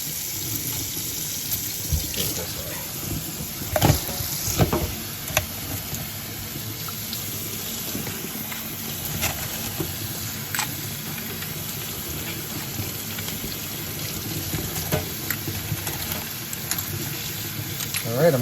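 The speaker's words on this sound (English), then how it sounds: "I'm gonna rinse these off and then put them out on a towel" Tap water runs steadily into a sink as tumbled coins dug up while metal detecting are rinsed, a continuous close splashing with occasional clinks and knocks.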